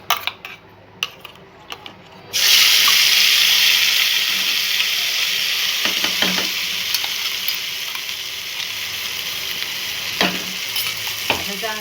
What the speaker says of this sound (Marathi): छान तेल शिजोपर्यंत आपण हा मसाला चांगला भाजून घेऊ